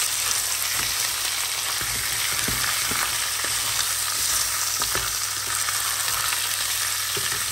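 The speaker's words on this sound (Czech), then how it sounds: "No a budu to takhle opékat společně s tou cibulkou." Meat sizzling with onion in a frying pan for Czech sailor's meat (námořnické maso): a steady broadband crackle and hiss throughout, with occasional scrapes and stirring knocks near the pan, no voices.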